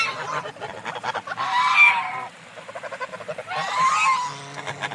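Geese honking loudly and close at the Duck Pond near Pennington Gap, Virginia, two bursts of harsh repeated honks with a brief quieter gap between them and a little background noise.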